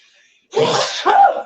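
A single loud, close sneeze bursting out after a moment of near silence, with a breathy tail.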